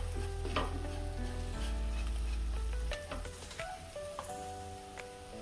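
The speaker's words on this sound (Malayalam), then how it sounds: "ഇനി നമുക്ക് കൈപ്പക്ക ഇതിലേക്ക് ഇടാം. കൈപ്പക്ക ഇതിലിട്ടിട്ട് മുരിഞ്ഞ് വരണം." Bitter gourd is stir-fried in a pan for a Kerala theeyal, with a steady sizzle and the clatter and scrape of a spoon stirring through it, fairly close and continuous.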